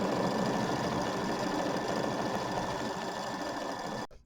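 A sewing machine stitches quilting loops on a Kimberbell mini quilt, a steady close mechanical whir with rapid needle chatter that runs continuously and then stops abruptly at the end.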